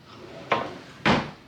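A drawer in a Disney's Pop Century hotel room at Disney World is opened and shut, giving two distinct close wooden knocks about half a second apart, with no talking.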